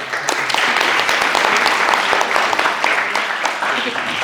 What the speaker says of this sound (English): I think we can applaud our first panel.